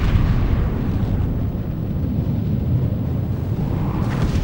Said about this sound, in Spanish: Es la onda expansiva.